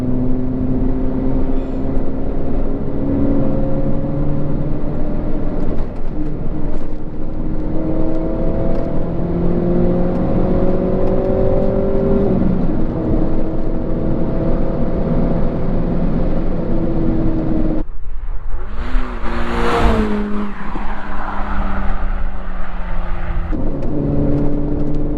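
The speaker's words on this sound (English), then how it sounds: "Oh, I love that exhaust note." A Renault Clio RS or Abarth Punto hot hatch drones steadily while being driven, with a loud continuous exhaust note shifting in pitch through gear changes and a brief rise in revs near the end.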